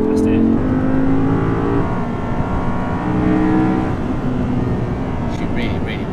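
An Audi R8 V10 supercar engine pulls hard and steady from inside the cabin on a road drive, a loud continuous drone that rises slightly, with someone talking over it.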